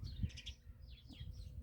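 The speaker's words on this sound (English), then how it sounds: "You can hear the hummingbirds coming through here right now." Hummingbirds give a few faint, thin chirps in a spring garden, brief high twitters against a soft outdoor background, with no talking.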